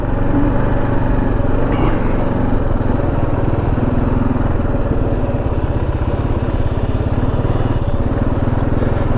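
A Kawasaki KLR650 motorcycle creeps along slowly on backwoods trails in Georgia, its single-cylinder engine putting out a steady, continuous low rumble that stays loud and close for the whole stretch, with no voices over it.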